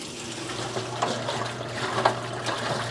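Water sloshing and splashing in a washing machine on a delicate cold cycle as a 1992 Dirt Devil Broom Vac Model 702 dust bag is washed, a continuous churning wash with periodic louder swishes.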